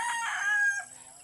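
A rooster on a farm lets out a single loud, close crow, the call holding steady before tapering off quickly.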